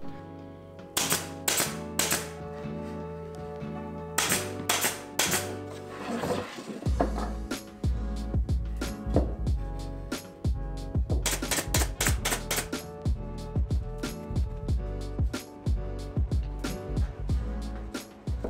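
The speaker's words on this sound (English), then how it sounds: "I assembled them using glue and a pin nailer" A pin nailer drives nails into the glued wooden joints of a kitchen drawer organizer, sharp snapping shots fired in quick irregular runs, close and loud, with the odd pause between bursts.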